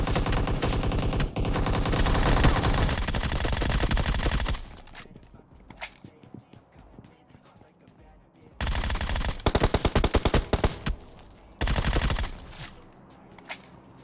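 Automatic gunfire from AWM and Groza weapons in PUBG Mobile comes in loud close bursts with a quieter stretch of scattered shots and movement between them.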